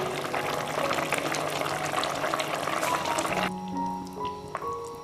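Beans simmer in a covered pot in a home kitchen, giving a soft, continuous bubbling that ends abruptly and leaves a quieter background with faint tonal sounds.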